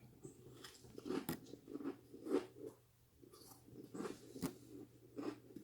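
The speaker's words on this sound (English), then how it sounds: "if you can hear that crunching, that's my husband having some chips" A person crunches on chips nearby, a faint series of irregular crisp bites and chewing crackles spread through an otherwise quiet room.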